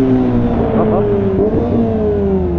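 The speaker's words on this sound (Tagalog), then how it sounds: "Yung ingay pala talaga ng motor mo." A Kawasaki ZX25R four-cylinder motorcycle engine gives a loud, steady, buzzing drone at near-constant revs, close and continuous for a few seconds.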